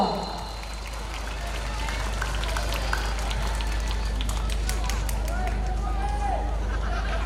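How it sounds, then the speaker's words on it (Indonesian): Lively applause from an audience at an Indonesian alumni anniversary gathering, a continuous wash of clapping heard at moderate distance over a low steady hum, with scattered voices in the crowd. "Beri tepuk tangan yang meriah dong."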